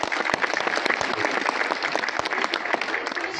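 Crowd at a Swami Vivekananda Jayanti speech event in Bihar claps dense and continuous, moderately distant, with no talk over it.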